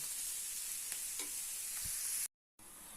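Parsnip frying and stewing in a covered pan, giving a steady close sizzle with a few faint clinks and one brief dropout near the end.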